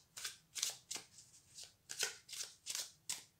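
Tarot cards being shuffled by hand make a run of soft, crisp riffling bursts, about seven or eight in a steady rhythm, close and quiet with no talking.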